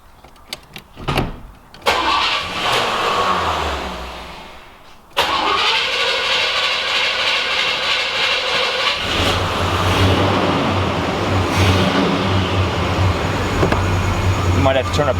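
A 1986 Oldsmobile Cutlass pulled from a junkyard cranks and catches, then runs and revs with a loud, close mid-pitched engine roar that holds steady, settling into a lower drone near the end; voices speak briefly at the start.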